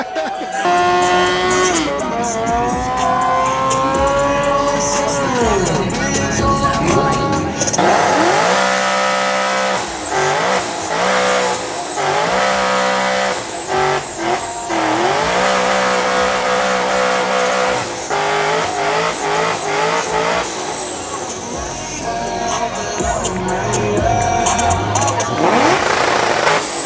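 A car doing burnouts on private property, engine revving hard and tires squealing in long sustained bursts with repeated throttle surges, loud and close, with voices now and then underneath.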